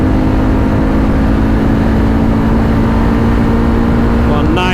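A 2024 Honda Africa Twin DCT ES motorcycle runs at high speed on a German road, with a loud, constant engine drone and heavy wind rush filling the whole stretch, rising slightly at the end.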